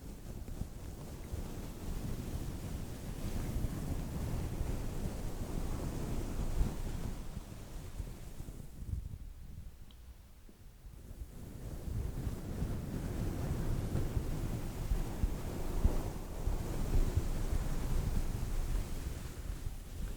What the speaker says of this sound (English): it sounds like a wave, Loki